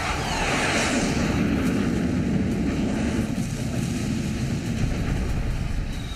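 A Chengdu J-20 fighter jet roars loudly and continuously, a dense broadband engine rumble that holds steady across the stretch without any speech.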